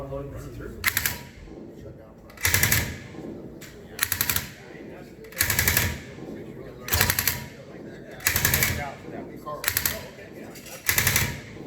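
Machine gun fire during military field training, in eight regular short bursts spaced about a second and a half apart, loud and close with quieter gaps between.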